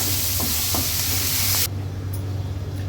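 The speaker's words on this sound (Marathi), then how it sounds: "आता या हिरव्या मिरच्या आणि बारीक चिरलेले दोन कांदे आहेत ते ऍड करूया कांदा पण छान मऊ होईपर्यंत आपल्याला शिजवून घ्यायचा आहे" Green chillies and finely chopped onions fry in a pan on a low flame, a loud close sizzle with a few stirring taps that cuts off abruptly partway, leaving a quieter low hum.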